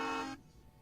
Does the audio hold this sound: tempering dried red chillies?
no